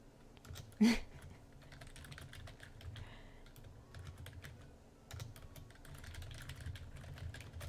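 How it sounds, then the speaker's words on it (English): Soft, continuous keyboard typing patters away in the background, with a low room hum and one louder knock early on. "I'm sorry if you can hear my typing"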